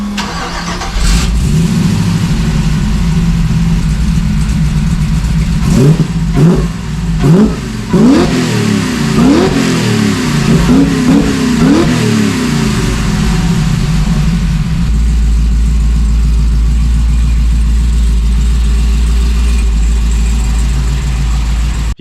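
A supercharged C10 truck engine with custom stainless exhaust cranks and fires, then revs hard in a series of sharp throttle blips before settling into a loud, rumbling idle.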